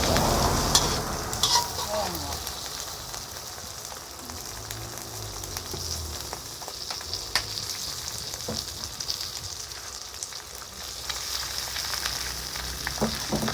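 Wide rice noodles being stir-fried in oil in a pan for pad see ew with egg, giving a steady close sizzle and frying hiss with repeated scraping and stirring clatter throughout, no voices.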